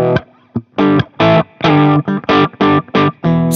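Played softly with the fingers, an electric guitar through a Marshall amp sounds a series of evenly spaced, moderately loud chords with a light crunch, each separated by a brief pause.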